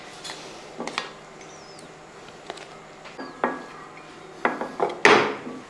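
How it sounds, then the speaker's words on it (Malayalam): Cleaned fish pieces go into a kadai with scattered clinks and knocks of metal and utensils, several sharp taps and scrapes spread out, the last one louder, with no talking. "ഞാനിപ്പോൾ ഇതേപോലെ ഒരു കടായിക്കകത്തോട്ട് ഈ വൃത്തിയാക്കി വെച്ചിരിക്കുന്ന മീൻ അങ്ങോട്ട് ഇട്ട് കൊടുക്കുകയാണ്."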